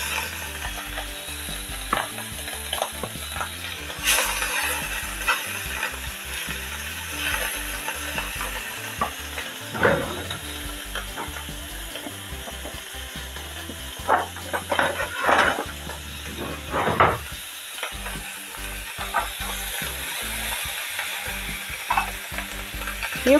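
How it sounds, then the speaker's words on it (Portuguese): Shrimp sizzle and fry in a pan for a Brazilian moqueca de camarão, a steady close crackle broken by scraping stirs and utensil clinks against the pan. "a gente deixa fritar até ficar rosa"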